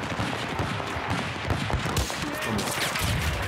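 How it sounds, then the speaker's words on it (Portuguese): Constant gunfire fills a first-person shooter video game, with dense overlapping shots and blasts making a loud, continuous barrage. "Tô tomando tiro pra caralho"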